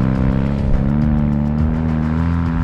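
A BMW F800GS motorcycle running a paddle tire accelerates hard, its engine giving a loud, continuous, rising drone close by with a rapid pulsing beat throughout and no voices.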